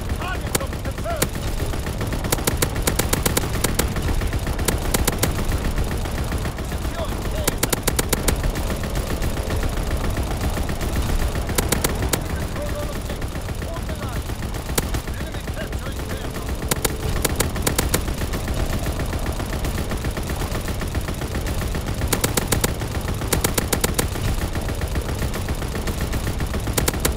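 Sustained turret gunfire and artillery barrage in a multiplayer war video game, dense overlapping bursts and booms rolling continuously without pause, loud and close, with speech in the game mixed underneath.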